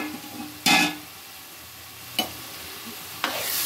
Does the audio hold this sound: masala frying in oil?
yes